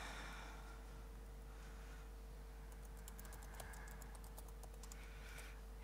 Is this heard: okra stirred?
no